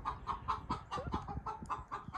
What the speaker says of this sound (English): Got a chicken. Must have just laid an egg.